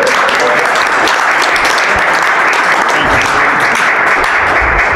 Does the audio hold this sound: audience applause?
yes